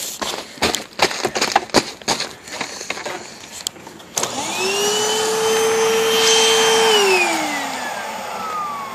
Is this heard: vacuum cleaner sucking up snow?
yes